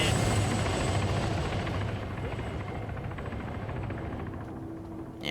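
A helicopter in the video game Arma 3 flies in during a Vietnam War scenario, its steady rotor thump and engine drone loud and continuous, fading slightly toward the end.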